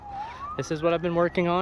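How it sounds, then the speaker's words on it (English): A police siren wails in the background, rising slowly, while someone speaks nearby over it. "Sorry for the sirens there."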